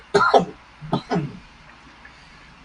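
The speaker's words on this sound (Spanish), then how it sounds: "Ahora uno tose y la gente se asusta." A person gives a few short throat-clearing coughs in a quiet room, two quick rough bursts followed by a softer pair, close to the microphone.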